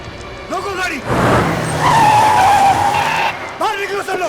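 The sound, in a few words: car braking to a stop with tires skidding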